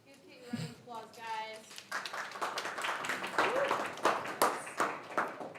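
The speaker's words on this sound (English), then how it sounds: "Give Kate a round of applause," A workshop audience on Japanese stab binding applauds at moderate volume, the scattered claps thickening into a steady patter. Talk runs underneath, and a voice is heard at the start.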